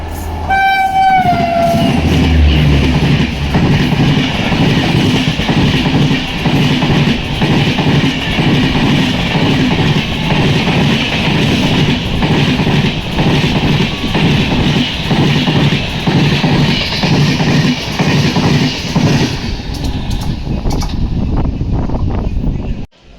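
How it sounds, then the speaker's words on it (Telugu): Coimbatore special express train running through a station without stopping, loud and close throughout: a horn sounds at the start, then the steady rumble and rattle of the wagons rolls past, with rhythmic wheel clicks as the train fades near the end. "కోయంబత్తూరు స్పెషల్ ఎక్స్ప్రెస్ వచ్చేసి ఉల్లిందకొండ స్టేషన్ నుంచి అయితే స్కిప్ చేస్తుంది"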